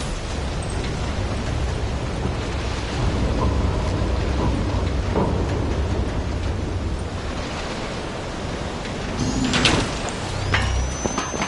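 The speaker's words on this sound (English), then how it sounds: "Storm's getting worse." Storm in Call of Duty Black Ops 3, with dense, steady rain noise roaring throughout and deep thunder rumbles swelling beneath it, plus a sharper crack near the end.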